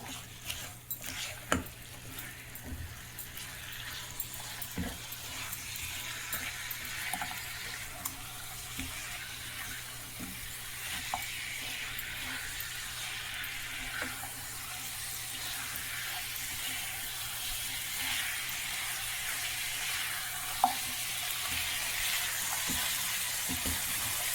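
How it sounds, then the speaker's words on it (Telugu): Soft, steady sizzle and faint bubbling of green chilli chicken simmering in its own water in a covered pan, quiet and even with a few small clicks. "మూత పెట్టేస్తాం కొద్దిసేపు బాగా మగ్గుతుంది చికెన్"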